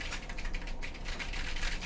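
Computer keyboard keys tapped repeatedly while testing a keyboard connected to an Arduino for a thermal-printer typewriter build; a steady, close run of light clicks with no talk.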